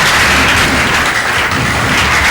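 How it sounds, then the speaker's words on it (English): Church congregation applauding together in a sustained, dense burst of clapping that stays loud and steady throughout, with no speech over it. "clap your hands again for the God of my father"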